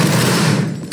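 Gunfire volley in a laggy video game battle during a charge, a dense, loud, continuous rattle of shots lasting about a second, ending in a heavier burst.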